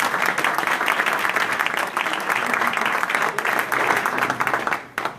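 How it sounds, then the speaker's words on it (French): An audience applauds at the program presentation of the 59th Jazz à Juan jazz festival, with dense, steady clapping throughout that tapers off abruptly at the very end. "On peut applaudir."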